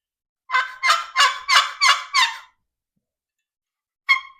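Hen turkey yelps imitated on a wooden box call, six raspy strokes in a steady rhythm followed by a pause and one lone final note, close and fairly loud with no talk.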